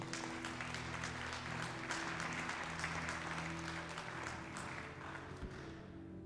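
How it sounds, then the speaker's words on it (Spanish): A church congregation applauds the Lord in a steady, dense burst of clapping that fills the room, continuous and fairly loud with a low hum of voices beneath. "Dale un aplauso al Señor, querido."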